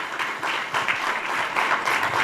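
An audience at a law lecture applauds for a speaker, a dense, steady wash of many hands clapping together for a couple of seconds, fairly close and even in level.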